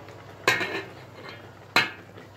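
A metal spoon knocks twice against a pot of quince jam cooking on the stove, two sharp, clear clinks with faint stirring scrapes between them.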